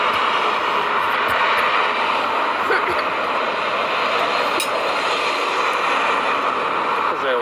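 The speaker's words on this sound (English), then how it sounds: "As I walk into some gusty ass wind" Gusty wind roars steadily outdoors along South Kingsway, broadband and close, with faint traffic or an aircraft hum in the background and a few light knocks.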